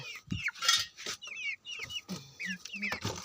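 Backyard chickens clucking close by in a series of short, repeated calls with brief pauses between them, no talking.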